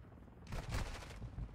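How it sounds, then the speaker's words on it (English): A short burst of rapid automatic gunfire in a video game, a dense rattling volley that starts abruptly and holds at close, moderate loudness for about a second. "Been ruined by automatic weaponry."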